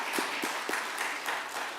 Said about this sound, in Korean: 한번 환영의 박수 부탁드립니다.